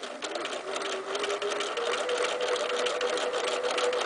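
A sewing machine running continuously for free machine embroidery stitching on fabric, a close, steady fast whirring hum with rapid needle chatter and a faint tonal whine, no voices.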